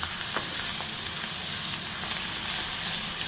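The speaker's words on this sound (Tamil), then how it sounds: "மசாலா, வெங்காயம், பச்சை மிளகா எல்லா இதுலேயும் மொத்தமாக வதங்கிடுது" Masala, onions and green chilies for a South Indian fish curry sauté in a hot pan with a steady, close, loud sizzle and hiss that fills the whole stretch without pause, with no voices.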